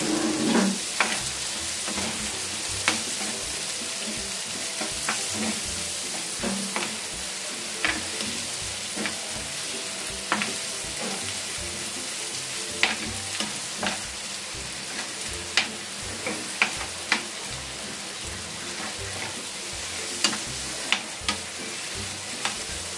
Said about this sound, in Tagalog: Lagyan na po natin itong sibuyas. Sibuyas na puti po yung ginamit ko.